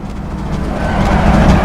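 Audi Quattro rally car on hard tarmac slick tires in Assetto Corsa, its engine droning loud and steady close up, building slightly in strength as it pulls.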